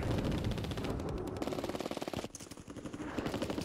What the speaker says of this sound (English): Someone's sniping at me from behind.